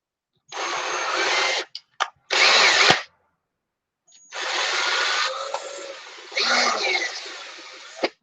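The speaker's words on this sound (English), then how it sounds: "When you're enlarging, you run the drill backwards, not forward." A power drill runs in reverse to enlarge a hole during restoration work on a 1970 Pioneer TX-700 tuner, buzzing close and loud in several bursts of one to two seconds separated by silent pauses.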